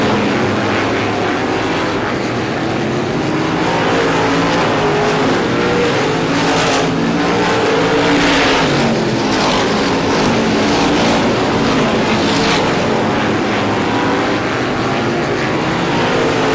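Race cars roar down the front straightaway at a short-track racing event, a loud, continuous engine blare that swells and fades as cars pass close by.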